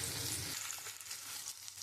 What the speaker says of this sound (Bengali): আমি আলুটা একটু ভেজে নেব